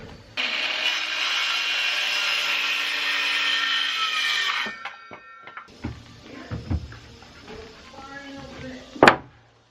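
A saw cuts off the excess of a 10-foot board on a front porch build, with a loud, sustained rasping cut for about four seconds, then scattered knocks, scrapes and handling noises of the wood settling.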